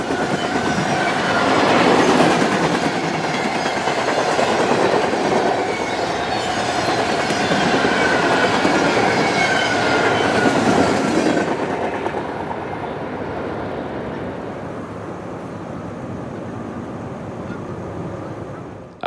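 A long freight train rolls past on the rail line at Palatine Bridge in upstate New York, loud and close, with steady clickety-clack of wheels and faint squeals, the roar dropping off sharply as the last cars clear.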